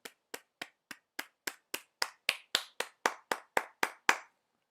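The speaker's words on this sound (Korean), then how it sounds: "하나님 앞에 영광의 박수 올려드립니다." A church prayer congregation claps about fifteen times in a steady, even rhythm, each clap sharp and close, building slightly louder toward the end before stopping.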